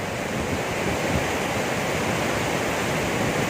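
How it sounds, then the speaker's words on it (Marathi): Water pours over the dam spillway at Naldurg fort in a loud, continuous roar of rushing, cascading water, with no voices heard. "आपल्याला पाण्याचा हा अतिशय सुंदर आवाज"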